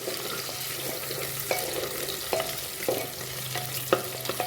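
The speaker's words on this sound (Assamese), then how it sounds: "ভাজি আছোঁ মই।" Onions, tomatoes and potatoes fry in a pan for biryani, giving a steady sizzle broken by scraping stir strokes and occasional sharper clicks of the utensil, close and fairly quiet, with no talking.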